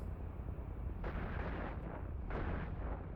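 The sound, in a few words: missiles launching in EVE Online video game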